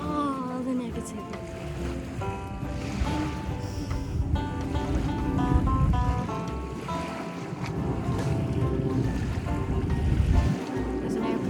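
Ocean surf at a beach on a sunny day, waves washing and rushing under gusty wind buffeting the microphone, with music-like tonal sounds layered over the continuous roar.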